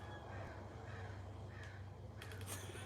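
Crows caw in a backyard, a few short calls rising late over a steady low hum, fairly faint and at a distance.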